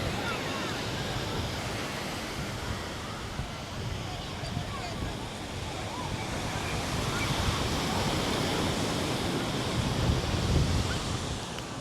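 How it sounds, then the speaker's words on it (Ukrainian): Strong Atlantic surf on the beach at St. Augustine, Florida, a loud continuous roar of breaking waves with wind buffeting the microphone, steady throughout. "Такі хвилі є трохи сильні."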